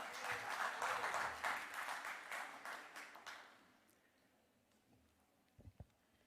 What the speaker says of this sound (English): Can we have a big round of applause to our Secretary of the Day, CA Jai Prakash Agrawal.